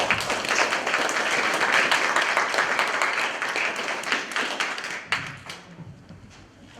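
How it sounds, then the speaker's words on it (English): Audience applause at an awards ceremony: dense, steady clapping from many hands that fades and thins out toward the end, with scattered last claps. "a big round of applause"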